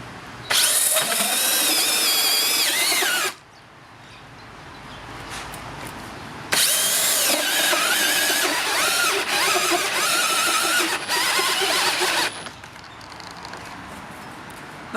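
A Makita 40V right angle drill bores with a large bit in low gear in two loud, sustained bursts, its high motor whine rising and falling under load, separated by a quieter pause.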